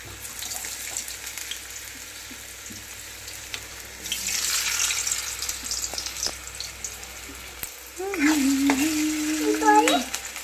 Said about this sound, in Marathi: तळू दे आता ह्याला